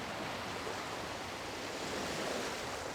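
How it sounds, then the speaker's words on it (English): Ocean waves surround the island city-state of Limsa Lominsa in Final Fantasy XIV, a steady, even wash of surf noise with a faint, constant rush and no voices. "amidst the roiling waves of the Lotamo Sea, lies the maritime city-state of Limsa Lominsa."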